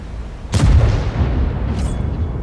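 A tank main gun firing in a tank video game, the VK 72.01 heavy tank taking a long shot: one loud boom with a broad low rumble that decays slowly, then a brief faint high crackle.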